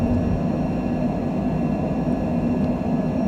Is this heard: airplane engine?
yes